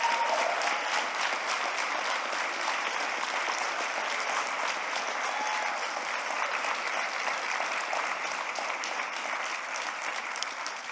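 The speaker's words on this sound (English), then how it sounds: "Let's give them all a great big round of applause." An audience gives a big round of applause to graduates of the 2020 Catalyst Program at a gathering on an Indigenous-led clean energy future: continuous, dense clapping from many hands, steady throughout with no speech.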